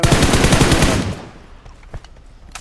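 A burst of rapid automatic gunfire from PUBG rattles loudly for about a second, then cuts off, leaving a few scattered distant shots.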